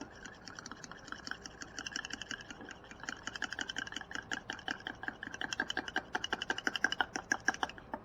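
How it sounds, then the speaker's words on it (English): An egg beaten in a bowl, fast steady rhythmic clicking and tapping strokes that quicken and grow louder toward the end, close up with no talking. "first let's do the egg into the bowl. And we shall whisk this up"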